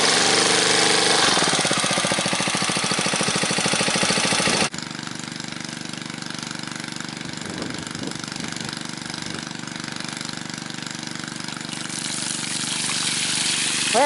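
A small water pump engine from a scrapyard runs loudly then drops to a steady idle, a close, rattling hum that continues evenly for several seconds.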